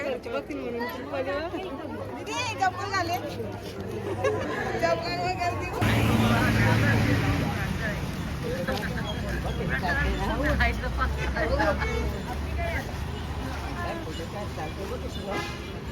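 People crowd together to collect slippers at the Tirupati temple footwear counter, a busy, continuous hubbub of many overlapping voices with close chatter and traffic noise in the background.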